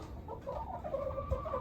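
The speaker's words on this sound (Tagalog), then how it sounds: "Ayan sila, mga manok natin" Chickens cluck softly in a coop during a Canadian snowstorm, several short overlapping clucks close by over a low rumble of wind or heater hum.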